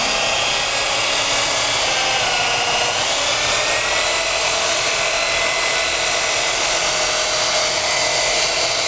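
A WerkMaster Scarab concrete floor polishing machine runs continuously with a loud, steady high whine and grinding hiss against the concrete, close and unbroken, with no talk.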